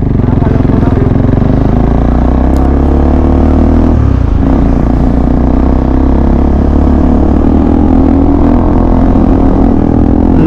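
A motorcycle engine runs loud and close with a constant rumbling drone and wind buffeting throughout, as heard from a moving ride, with voices talking faintly underneath.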